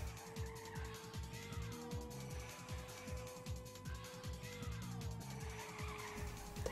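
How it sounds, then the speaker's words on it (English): Ridge Racer Revolution race car on PlayStation braking into a corner, a steady game engine whine with pulsing low rumble and a long tire skid squeal, with a faint voice underneath. "There's no way I can go around this corner without braking"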